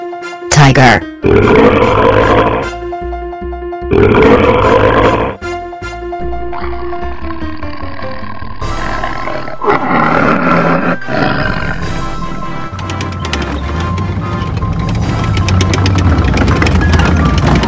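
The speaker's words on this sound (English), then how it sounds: "Tiger." A wooden toy train plays a tiger roar amid electronic jingles and tones: loud growling roars come in bursts between musical notes, followed by a lower rumbling growl near the end.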